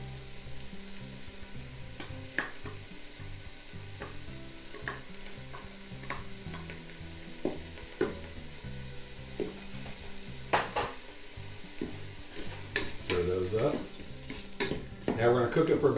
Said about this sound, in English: Let's drop in those peppers and onions.